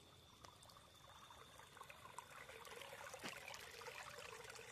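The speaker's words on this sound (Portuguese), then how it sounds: "Barulhinho de água" Water trickling and pouring in an outdoor natural spot, a continuous faint gurgling flow with small splashes, steady throughout with no voices.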